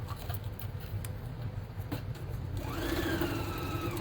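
A sewing machine runs a quarter inch seam on a pot holder, a quiet rapid patter of stitching that stays steady and close, and a higher whine rises near the end.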